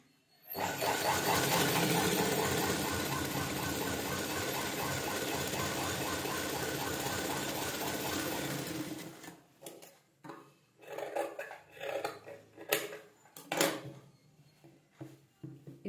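A sewing machine stitching blouse lining runs in a steady, fairly quiet whir for about eight seconds, then stops, leaving scattered soft handling sounds of fabric and small clicks.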